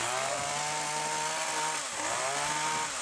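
A hedge trimmer runs steadily and loudly the whole time, a continuous motor buzz with a brief dip in pitch near the end before it climbs back up.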